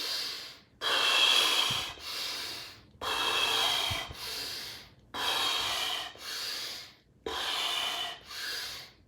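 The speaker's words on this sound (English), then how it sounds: "I'm going to take 5 conscious breaths right now" Deep, slow belly breaths taken deliberately, five long inhale-exhale cycles in a steady rhythm, close and breathy with soft airy rushes and brief pauses between, no talking.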